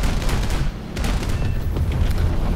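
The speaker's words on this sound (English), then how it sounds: "And after that explosion," Aircraft blowing up in the War Thunder combat game: a dense, loud, rumbling blast with crackling debris that roars on continuously for a couple of seconds, with no voices over it.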